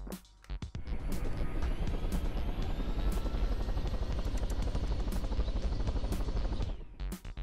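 Helicopter in the video game Totally Reliable Physics: a loud, steady rotor and engine roar that fills the clip with little change, after a brief choppy start.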